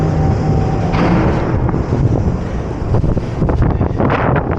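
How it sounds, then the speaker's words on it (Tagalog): Strong wind roars and buffets the microphone continuously, loud and rough, with no voices. "Sobrang lakas ng hangin."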